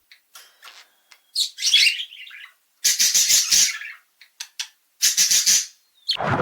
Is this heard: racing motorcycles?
no